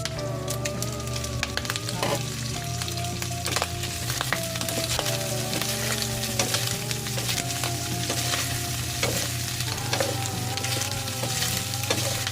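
Pork fries in its own rendered fat for binagoongan, with a loud, steady sizzle and crackle close by. A low hum runs underneath, and a tonal whine rises and falls over it.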